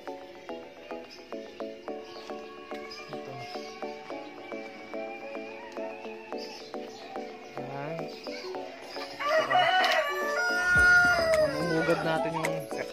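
Black Australorp and native chickens cluck and crow in a yard, the calls faint and scattered, with a louder burst of squawking and rustling near the end.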